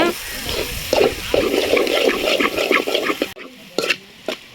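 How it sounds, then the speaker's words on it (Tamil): Okra sautéing in a pan with curry masala powder makes a steady, close sizzle and scraping stir for most of the clip. It then drops off into quieter, sparse clatter. "குழம்பு மசாலா தூள் சேர்த்துக்கோங்க சேர்த்து நல்லா வதக்கிக்கோங்க"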